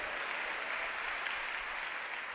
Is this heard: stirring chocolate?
no